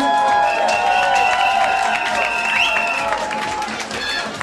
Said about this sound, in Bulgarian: аплодисменти за господи от Румъния и за Летво